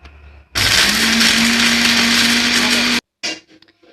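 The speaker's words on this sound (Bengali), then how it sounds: "এখন আমরা এটা ব্লেন্ডারে গুঁড়ো করে নেব।" An electric blender grinds roasted whole spices, including pepper and coriander, in one loud, steady whirring burst of about two and a half seconds that cuts off abruptly, followed by a brief rattle.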